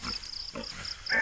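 A boar pig of mixed breed, half native and half white, grunts on a rural hillside farm, giving a few short, rough nasal snorts close by among faint outdoor noise.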